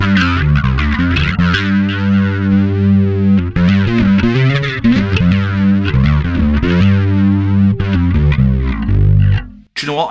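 Bass guitar played through a Line 6 Helix using a Steve Cook preset, a thick, distorted, chorus-tinged tone ringing out loud and sustained with continuous notes and chord-like harmonics, cutting off abruptly near the end.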